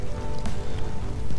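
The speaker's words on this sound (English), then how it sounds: "It's raining." Rain falls in the survival game Ark Survival Evolved, a dense, steady patter on surfaces heard up close and fairly loud, with no talking.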